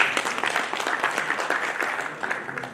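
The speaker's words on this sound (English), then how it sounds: "So please welcome entrenched traveler, food devotee, avid reader and lovable personality, Mr. Amitabh Luthra ji, with big round of applause." An audience at the PAMEX road show in Haridwar gives a continuous round of applause welcoming Mr. Amitabh Luthra, heard at a moderate, somewhat distant level with dense overlapping claps.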